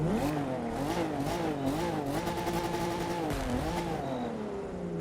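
A Z rallycross car engine in a racing video game revs repeatedly, its pitch rising and falling through several gear-like swells, loud and close with no talk.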